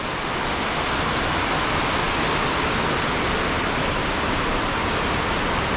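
The large waterfall in Hallstatt, Austria, gives a loud, steady roar of rushing water that fills the scene without a break and with no voices.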